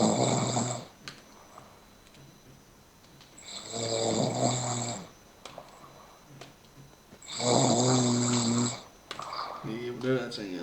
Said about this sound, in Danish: du snorker